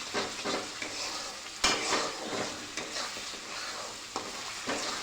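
Masala paste for chicken rassa stirred and fried in a pan, with steady sizzling and a spoon scraping in irregular strokes, close and moderately loud, no voices.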